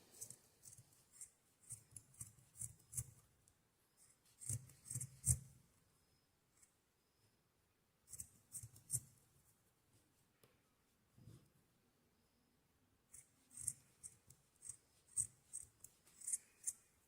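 Scissors trimming the yarn ends of a crocheted amigurumi reindeer, a close series of quick snipping bursts in clusters separated by quiet pauses, with no talk.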